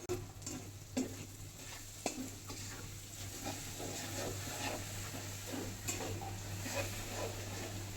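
Onions frying in a pan, with a steady close sizzle and the soft scrape and clink of a utensil stirring them at irregular moments throughout.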